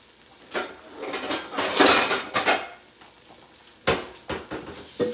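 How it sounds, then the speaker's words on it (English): Greens go into a frying pan with clattering metal, a utensil knocking and scraping against the pan in irregular bursts, loud and close, with no one talking. "I'm going to show you how a good way to fry your greens"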